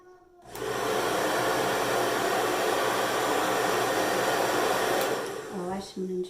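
Hair dryer with a diffuser running on medium heat and medium speed while styling wavy hair: a loud, steady whooshing roar that starts abruptly, holds for several seconds, then cuts off with brief clatter.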